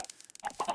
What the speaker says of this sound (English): I've been harvesting chickens and filling up on the eggs.